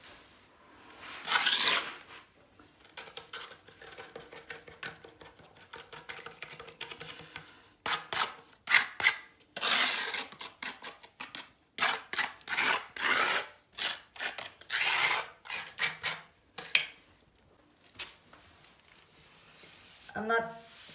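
Excess wet grout is scraped off a floor in short, irregular rasping strokes, close by, beginning sparse and then coming in quicker bursts.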